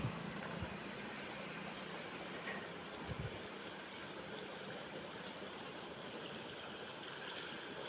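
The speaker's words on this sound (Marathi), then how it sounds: "कसला आवाज आला बघा पाण्याचा" Floodwater rushes past near the Radhanagari bridge during heavy monsoon rains, a faint, steady broadband roar with swirling eddies and no pauses.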